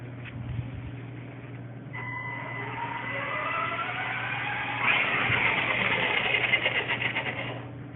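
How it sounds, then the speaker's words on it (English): The electric motor of a small robotic vehicle whines as it spins up, its pitch rising steadily, then shifts and buzzes harder as it reverses to brake, close and moderately loud over a background hum. "This vehicle will try to stop by initiating its braking sequence, which is actually a reverse."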